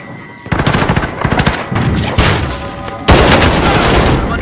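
Heavy automatic gunfire in a Call of Duty: Warzone match on the Shipwreck area, loud, close bursts of rattling shots, with a sharp, intense volley near the end.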